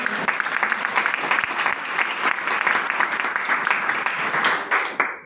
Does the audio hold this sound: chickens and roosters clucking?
no